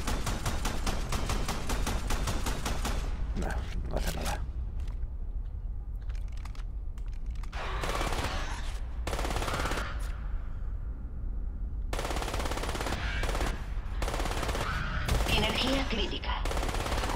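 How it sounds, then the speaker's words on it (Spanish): Enemy gunfire in the shooter game Crysis: rapid automatic bursts rattle loudly at first, then scattered shots and louder volleys break out over a steady background rumble. "¿Está disparando el cabrón?"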